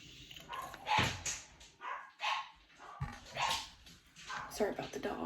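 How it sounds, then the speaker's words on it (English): Several dogs bark in short, loud bursts at irregular intervals, close by, with some whining mixed in. "Sorry about the dogs."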